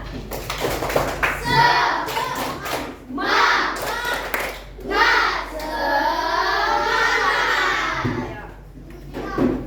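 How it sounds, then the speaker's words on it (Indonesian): Fourth-grade schoolchildren in a classroom do the rhythmic 'tepuk semangat' spirit clap, bursts of group clapping and patting alternating with loud chanted children's voices across several beats. "Tepuk semangat."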